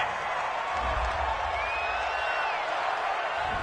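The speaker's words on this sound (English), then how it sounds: "This home crowd, they're happy with that call." A home crowd in a PS4 football video game cheers after an interception, a dense, steady roar of many voices holding at an even level throughout, with a faint high tone drifting through the middle.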